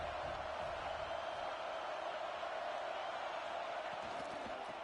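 A stadium crowd at an Alabama vs Arkansas college football game roars in a steady, distant wash of cheering that holds at an even level throughout.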